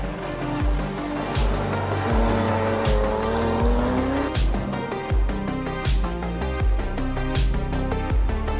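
A race car at speed on a racetrack, engine note loud and continuous with repeated tire squeals and skids through corners, no voices.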